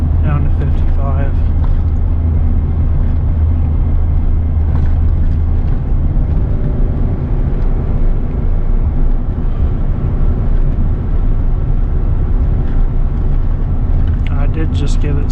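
Heavy, steady low engine drone of a 24-year-old 8.1-litre gas V8 truck towing 18,000 pounds on a mountain highway, throttle briefly applied, with a constant road rumble that holds loud throughout.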